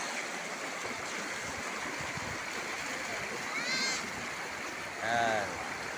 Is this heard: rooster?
no